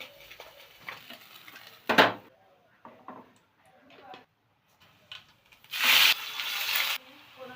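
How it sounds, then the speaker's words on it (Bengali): Vegetables with chilli, salt and turmeric being stirred in a frying pan, with scraping and sizzling bursts between quieter gaps and a louder stretch of frying near the end, close by. "লঙ্কাটা দিয়ে সবজিগুলো দিয়ে দিচ্ছি, দাঁড়া নুন দিয়ে দিলাম, এখন হলুদটাও দিয়ে দিচ্ছি, ভালো করে নাড়াচাড়া দিয়ে দিচ্ছি"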